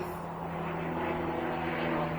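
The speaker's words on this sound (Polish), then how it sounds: "Samoloty." A steady drone of an airplane passing overhead, continuous and moderately distant, with no voices.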